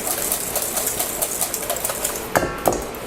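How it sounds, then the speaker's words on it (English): A whisk beating eggs in a bowl while prepping gnocchi Bolognese, a fast steady rattling and clicking that runs throughout, close and fairly loud, with a couple of sharper knocks near the end. "just whisk that up real nice"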